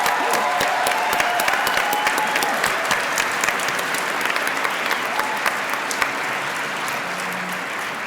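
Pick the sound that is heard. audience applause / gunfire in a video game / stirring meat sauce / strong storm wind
audience applause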